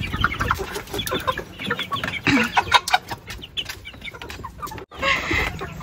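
A flock of farmyard chickens clucking and squawking continuously and fairly loudly, close by, with busy overlapping calls and rustling throughout.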